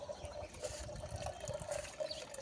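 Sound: kitchen waste water draining out of a plant pot

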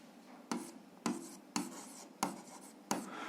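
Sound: writing

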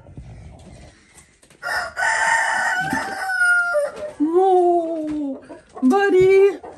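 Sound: rooster crowing

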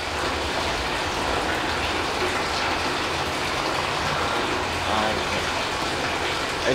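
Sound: electric commuter train arriving

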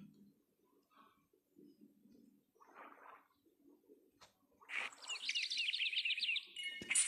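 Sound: birds chirping in Hungry Shark Evolution video game

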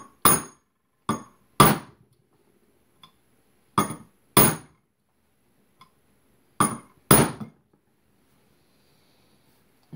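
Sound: 3-pound drilling hammer tapping out AR15 front sight pin

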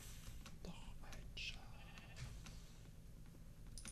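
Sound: sheep bleating in the video game Minecraft

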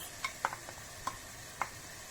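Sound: onions added to frying minced meat, stirred in pan

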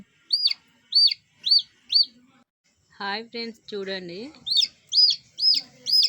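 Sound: newly hatched chicken chick cheeping

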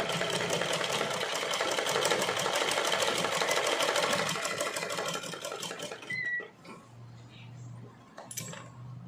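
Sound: sewing machine stitching pleats on a pattu pavada

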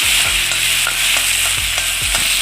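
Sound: shallots sizzling in oil after mustard seeds pop

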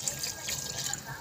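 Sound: water being added to a pot while cooking

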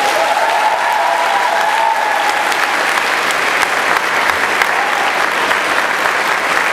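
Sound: audience applause for Visual Kiss

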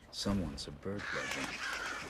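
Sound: alarmed birds cawing in the video game Thief

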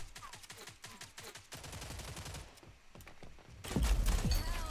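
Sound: gun firing with recoil in video game Rogue Company

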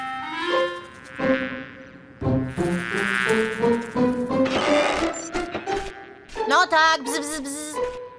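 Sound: insect buzzing in a cartoon

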